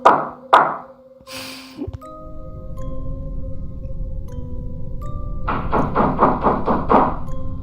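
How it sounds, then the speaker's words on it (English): Two heavy knocks ring out, then after a pause a quick, loud run of about seven knocks sounds over a steady low hum. "I hear knocking again."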